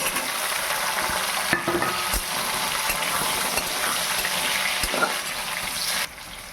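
Pieces of pumpkin and eggplant fry in hot oil, giving a constant loud sizzle with occasional knocks and scrapes of stirring, near and unbroken until it eases at the end.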